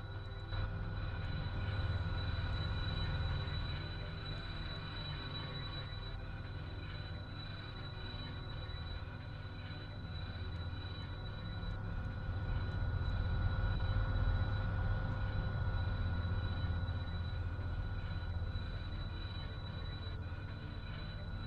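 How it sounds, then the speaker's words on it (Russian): A VL electric locomotive hauls a train along the BAM railway between Bakany and Taksimo, giving a constant low rumble with a thin steady electric whine above it, heard from on board and unbroken for the whole stretch. "Да, прикольный локомотив ВЛ."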